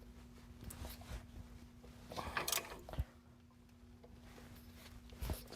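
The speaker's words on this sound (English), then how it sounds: "I'm going to start spinning the bearing and tighten it little by little" A front wheel bearing on a C2500 work truck is spun by hand while the nut is tightened bit by bit. Faint mechanical rattles and ratchet-like clicks come in short bursts over a low, steady hum.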